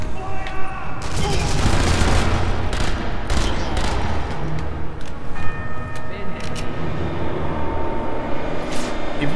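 Thompson submachine gun bursts in Sniper Elite V2, with loud rapid automatic fire and booming blasts in repeated volleys over about nine seconds of busy combat noise.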